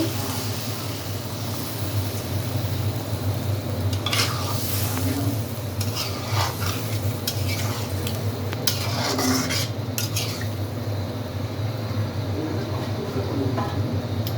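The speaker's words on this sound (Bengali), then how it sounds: "মশলা দিয়ে কষিয়ে নেব" Spiced food being stir-fried in a pan, with a spatula scraping and clinking against the metal over a steady sizzle, all set against a constant low droning hum.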